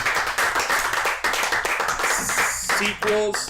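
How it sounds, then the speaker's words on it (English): A group claps steadily in a loud round of applause, with voices and cheering mixed in throughout. "I want to do a round of applause for all of you guys"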